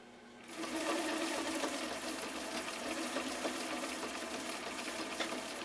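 A Viking 6370 sewing machine, restored from poor condition, stitches a complex rick-rack pattern with wide needle swing, giving a steady, close, loud mechanical whir with rapid rhythmic ticking that starts abruptly and runs alone.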